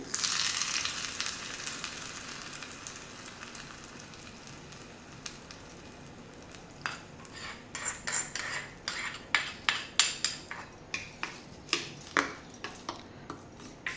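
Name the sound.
tempering (phodni) crackling in hot oil for chutney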